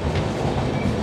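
A passenger train pulls into Kopargaon railway station, giving a loud, close rumble with rhythmic rolling wheel noise and a faint metallic squeal, heard steadily with no talk.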